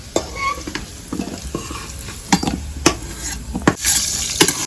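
Potatoes frying in oil with turmeric and salt in a village-style kitchen, with a steady sizzle broken by sharp scrapes and clacks of a utensil stirring against the pan, close and loud.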